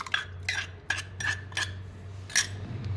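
A spoon clinks sharply against a vessel while buttermilk ingredients such as mango and watermelon are mixed, about six bright metallic taps at an uneven pace, close up, with no talking.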